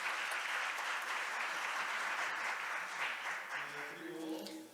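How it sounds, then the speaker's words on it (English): Applause for judges on an international IP court conference panel: a dense, sustained round of clapping from the audience at moderate volume that begins to thin and fade toward the end. "Please give them a big round of applause."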